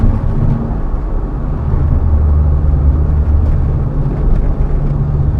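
Suzuki Alto Works JDM car engine and exhaust, a loud, steady low rumble with induction noise, heard close and continuous without speech.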